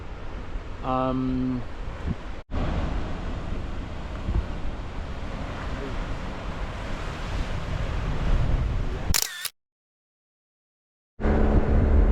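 Big ocean waves crash and roar against the rocks at Pancake Rocks, a loud continuous surge with heavy wind buffeting the microphone, a brief voice early on and a sudden cutout near the end.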